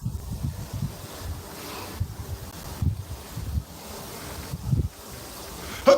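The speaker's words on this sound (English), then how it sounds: "the wind is feeling a little brisk" Brisk wind gusts across a frozen lake during ice fishing, rumbling in low buffeting bursts against the microphone, steady and close, with no speech.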